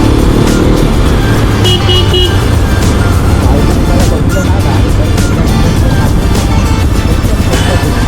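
A Hero Xpulse 2026 motorcycle engine rumbles steadily through a test ride, mixed with heavy road and wind noise while someone talks over it throughout.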